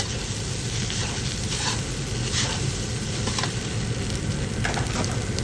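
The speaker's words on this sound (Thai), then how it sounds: "หลังจากนั้นก็ผัดไปเลยค่ะ ผัดทั่วๆเลยค่ะ จนแครอทสุกอะค่ะ" Carrots for salmon fried rice are stir-fried in a pan, giving a steady, close, loud sizzle throughout with faint scraping strokes of the spatula mixed in, no talk.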